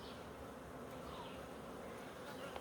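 Honey bees hum steadily around an opened secondary hive during a health check, a continuous dense buzz close by with no break across the moment.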